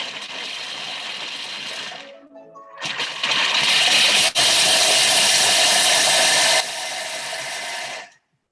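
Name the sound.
food processor briefly grinding dip ingredients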